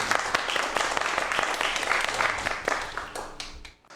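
Lecture audience applauding a speaker at a 3D printing technology talk, a full round of many claps with distinct sharp hits that dies away abruptly at the end.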